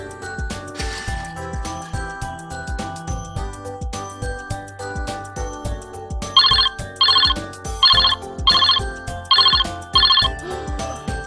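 A phone ringtone plays over cheerful background music for an incoming call, six bright repeated bursts of chiming tones in a steady rhythm near the end, loud and clear.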